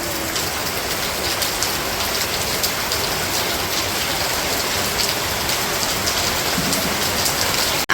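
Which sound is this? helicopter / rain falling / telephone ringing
rain falling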